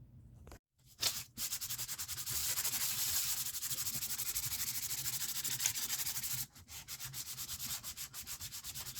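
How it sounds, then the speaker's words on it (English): Sandpaper rubbed back and forth over the metal frets of a Squier Mustang guitar, a close, continuous rasping scrape lasting several seconds, then shorter rhythmic strokes, with brief pauses between. "now I'm going to adjust the frets with these sandpapers"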